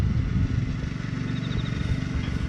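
Small walk-behind rice harvester working in a paddy field in Keng Tung, its engine giving a steady low mechanical drone with light clatter, moderately close and continuous throughout.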